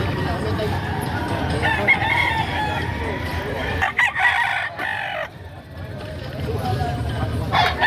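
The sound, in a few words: roosters crowing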